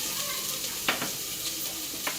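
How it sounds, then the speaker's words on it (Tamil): Finely chopped onions fry with whole garam masala spices and bay leaf in a cooker, giving a steady close sizzle broken by a few stirring scrapes. "பொடியாக நறுக்கின வெங்காயம் போட்டுக்கோங்க."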